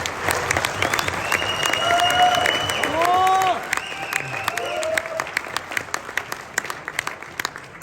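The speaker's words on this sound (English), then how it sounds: "I would ask you to please kindly make a round of applause for the developers of ZENIQ" A round of audience applause for software developers at a tech presentation, steady clapping from a crowd under scattered voices, fading into a few lingering claps.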